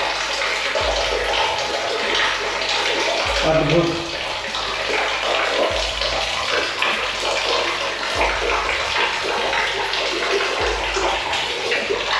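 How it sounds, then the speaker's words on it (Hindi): Water seeps and trickles steadily inside the small Mrigdhara rock chamber at Kalinjar Fort in Uttar Pradesh, a continuous close, splashing wash that runs throughout, with a brief spoken exclamation partway through. "पानी की आवाज़ आ रही होगी आपको"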